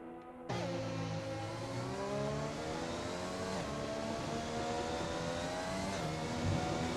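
Race car engine in a racing video game at the Bahrain circuit, a loud sustained engine note that climbs and shifts in pitch steadily through gear changes, heard close and continuous without talk.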